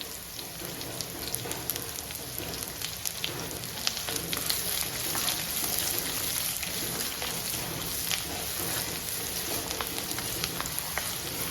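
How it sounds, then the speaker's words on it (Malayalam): Finely chopped onion sautéing in oil in a pan for a Kerala-style egg roast gives a steady, even sizzle and crackle that runs unbroken throughout, close and moderately loud. "ഇതൊന്ന് വഴണ്ട് വരട്ടെ"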